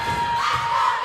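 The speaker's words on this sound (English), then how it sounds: "Crowd across the way getting into it, banging on the bleachers here." Crowd noise at a high school volleyball game in a gym, with spectators across the court cheering and banging on the bleachers in a steady, dense roar that swells slightly toward the end.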